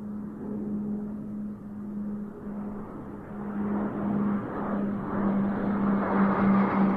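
A Slovenian Air Force PC-9M Hudournik turboprop flies at an airshow, a steady droning engine with a sustained low hum that slowly grows louder.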